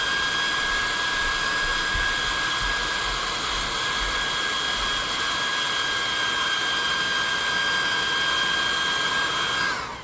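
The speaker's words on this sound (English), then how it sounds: "We're going to hit that with the blow dryer." A blow dryer drying paint on a tabletop role-playing miniature gives a loud, steady, close-up whirring roar that runs unbroken for about ten seconds, then cuts off at the end.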